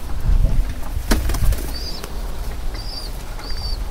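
Pigeons beat their wings in a quick flurry of flapping close by, followed by a few faint, high chirps from small birds in the background.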